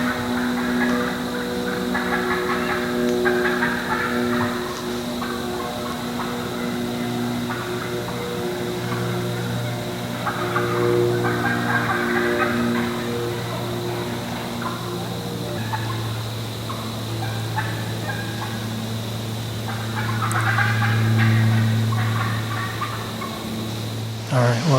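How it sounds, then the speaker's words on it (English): Wild turkeys gobble repeatedly at a distance over a steady low engine-like hum, with bursts of gobbling spread throughout, heard from a deer-hunting spot on Michigan public land. "I still hear those turkeys."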